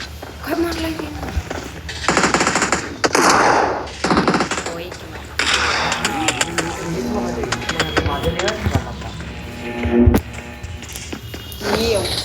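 Video-game gunfire crackles in repeated bursts of machine-gun and single shots, loud and close, spread across the clip with brief pauses, while players talk over the shooting.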